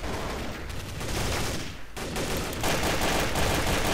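Machine gun fire in Counter-Strike: Source gun game, rapid sustained bursts of automatic shots that keep rattling loudly, briefly dropping out mid-clip before resuming.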